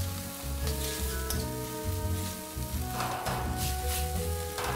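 Onion sizzling in a pan with a splash of soy sauce, a loud continuous frying hiss with bursts of crackle and a few soft stirring scrapes, no voices.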